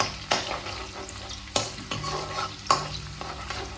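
Ginger and garlic sizzle in hot oil on a low flame for a prawn curry, a steady close-up frying hiss broken by three sharp clanks of a spoon stirring the pan.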